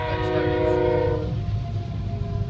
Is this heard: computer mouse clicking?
no